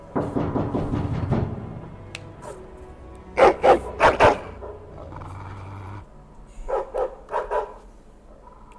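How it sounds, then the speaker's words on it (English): A war hound in Dragon Age: Origins barks in loud bursts, several sharp barks in quick succession midway and another cluster later, with rumbling, growl-like sounds at the start. "Your hound is making so much noise."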